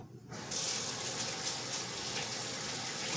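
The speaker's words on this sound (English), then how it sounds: "Wash my hands." Tap water gushes steadily into a sink for hand washing, starting abruptly after a brief quiet moment and running loud and close without a break.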